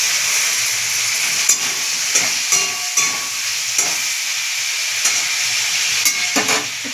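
Chopped onion and tomato sizzling among vegetables frying in a pan, a steady broad hiss with soft stirring scrapes and small pops throughout, close and continuous, no voices.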